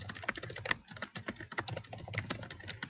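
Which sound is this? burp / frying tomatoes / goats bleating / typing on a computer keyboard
typing on a computer keyboard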